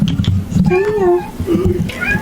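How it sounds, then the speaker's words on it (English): A cat meows twice, a drawn-out rising and falling cry followed by a shorter one, close by over low background noise. "oh, this is my other cat, you guys."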